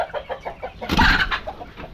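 A chicken clucks close by in a quick series of short clucks that rises into a louder squawk midway, then settles back into softer clucking.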